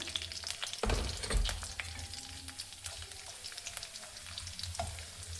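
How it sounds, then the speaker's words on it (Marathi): Finely chopped onion frying in hot oil for a spicy Nagpur-style Saoji fish curry, a steady close sizzle with louder bursts near the start and a few stirring clatters, no talking. "या तेलामध्ये आपण घेतलेला कांदा जो आहे तो चिरून झालेला आहे, बारीक चिरला, तो यामध्ये टाकायचा"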